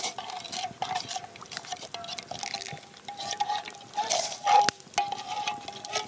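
A spoon stirs coffee in a cup at a campsite, giving a run of light scraping and clinking strokes, close and quiet, with a sharper clink near the end.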